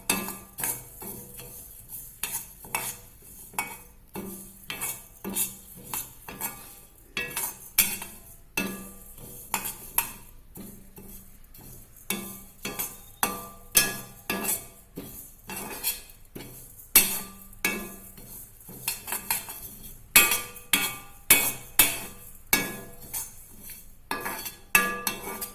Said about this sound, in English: Next we are adding the urid dal. Again we will roast it to a nice golden.